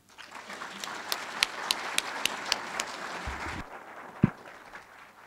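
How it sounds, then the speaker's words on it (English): An audience at a lunchtime lecture applauds to welcome a speaker, with dense clapping and sharper individual claps standing out. The applause fades after a few seconds, followed by a single close knock. "I love coming to a talk where they clap first"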